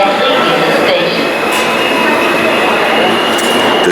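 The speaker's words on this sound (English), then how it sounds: "the next uptown train is now arriving on the local track" An uptown local subway train pulls into the ACE platform at Penn Station, a loud continuous metallic rumble and hiss with a faint high whine, steady from start to finish.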